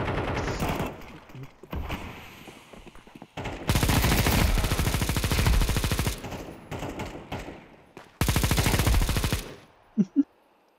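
Gunfire in Counter-Strike 2: loud bursts of rapid automatic fire in several long volleys separated by short pauses, ending with a couple of sharp single shots.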